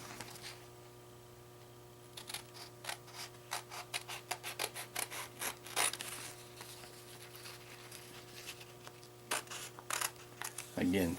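Hobby cutters or scissors snip parts for a model kit build, making a run of small, close, crisp clicks and cuts over a faint steady hum.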